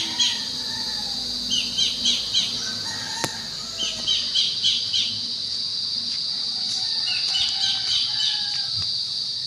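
Birds call outdoors during a walk, with rhythmic squawking bursts in short series, including a rooster-like crow, over a steady high insect hum.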